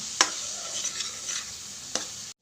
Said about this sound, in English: Mix the onions well.